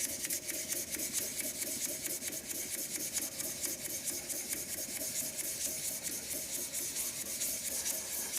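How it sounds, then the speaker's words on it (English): Steady rasping rub of sandpaper worked in circles over a turned wooden shaving brush handle, continuous and close with no pauses. "I'm actually sanding in like a sort of circular motion on the piece, and obviously following the shape of the handle as well"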